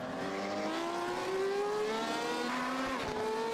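Porsche race cars in a Pro Class race on a track, a sustained loud engine drone with rising pitch as the cars accelerate, no talking heard.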